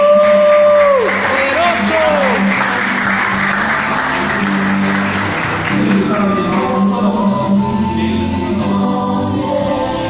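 A church congregation claps loudly as a crowd, mixed with shouts, whoops and cheering voices, while a sustained musical tone rings underneath for about ten seconds.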